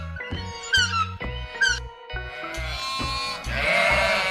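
A young lamb gives a few short, high bleats over a rhythmic musical beat, with the cries spaced about a second apart before the music swells.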